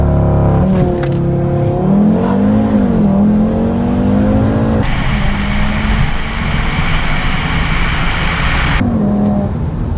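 An Audi TT RS five-cylinder engine pulls hard through a launch-control start, its loud, rising note climbing steadily through the gears with brief dips at the shifts, close and with no talking.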